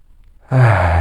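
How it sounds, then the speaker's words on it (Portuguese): A single deep, breathy inhalation during a guided meditation starts abruptly after a moment of near silence, then holds loud and close until the end. "Uma respiração profunda e abrindo os olhos, olhando ao teu redor."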